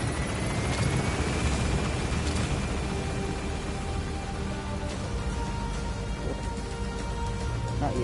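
A helicopter gaining altitude in the video game Metal Gear Solid V: continuous loud rotor thump and turbine whine, steady throughout with a slowly shifting engine tone.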